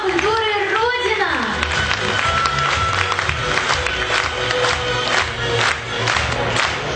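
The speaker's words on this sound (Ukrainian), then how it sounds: "давайте наградим громкими аплодисментами нашу большую и дружную семью Дома культуры «Родина»" Audience applause and crowd noise at an anniversary concert in a House of Culture hall, a dense steady wash of clapping with some cheering that fills the whole stretch, with a voice speaking over it at the start.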